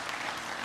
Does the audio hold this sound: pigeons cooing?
no